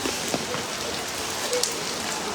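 Rain pouring down over an open-air cattle market, an unbroken broadband patter of drops on surfaces with occasional faint clicks and distant noises mixed in.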